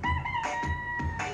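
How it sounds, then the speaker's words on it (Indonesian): A jungle fowl crows in a few short, bright bursts with brief gaps between them, close and clear, each call ringing and harmonically rich. "ada ayam hutan"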